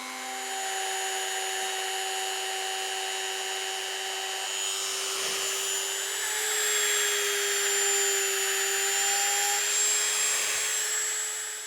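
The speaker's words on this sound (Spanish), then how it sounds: "simplemente con la maquinilla es seguir lo que son el boceto" A small rotary carving tool engraves alabaster stone, giving a steady high-pitched whine with a gritty grinding hiss. It runs continuously and fairly close, with slight shifts in pitch as the bit works the stone, and no speech.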